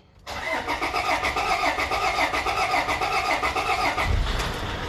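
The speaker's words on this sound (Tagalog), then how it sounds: "Umandar na mga boss ang Innova." A Toyota Innova engine cranks and catches at once, then settles into a steady, close, mid-pitched idle with a regular pulsing throb.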